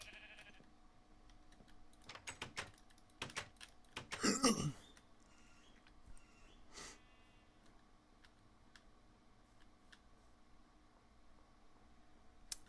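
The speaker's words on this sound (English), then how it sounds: "Sheep." A single sheep bleat from Minecraft stands out briefly near the middle, surrounded by scattered clicks of computer keyboard typing and quiet background hum.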